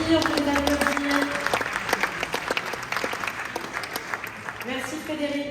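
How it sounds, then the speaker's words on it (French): Audience applause at a media awards ceremony, a continuous wash of clapping from a crowd with distinct individual claps, while voices talk over it at times, fairly loud and close. "Merci, on peut les applaudir."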